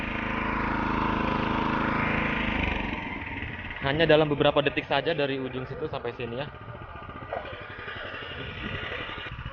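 An FTL 900H mini tractor with a ditching blade splits hard field soil, its engine droning steadily at close range while someone talks over it.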